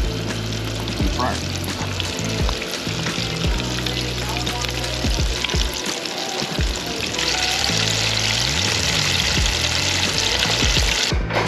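Pieces of yellowtail snapper sizzle and crackle steadily in hot oil in a fryer, a close, continuous frying hiss with occasional clatters and voices in the background.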